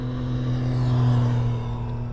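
Harley-Davidson Low Rider S motorcycle engine pulling steadily under acceleration while riding, a loud sustained low drone with a slight rise in pitch midway and no talking.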